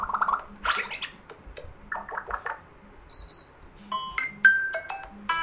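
Alarm ringtone playing on a Xiaomi 11 Lite NE 5G phone, a bright sequence of short electronic chimes and tones. Softer, murmur-like sounds come before them, and the whole clip is fairly quiet.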